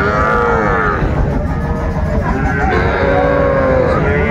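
Sahiwal bull calves at a cattle market moo loudly and repeatedly in long, overlapping calls close by, over a constant crowded din of livestock and people.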